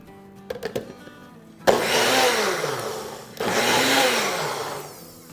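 A mixer grinder blending a paste for pithi puri whirs loudly in two bursts, its motor pitch sliding as it runs, after a few brief clicks and knocks.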